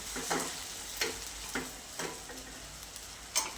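Sabudana with green chilli is stirred in a pan over a soft sizzle, with a spatula scraping and tapping in a loose, repeated rhythm close by.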